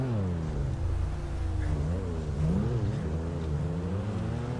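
A video game car's engine idles and revs with wavering pitch, a fairly quiet, continuous motor drone that rises and falls over a few seconds.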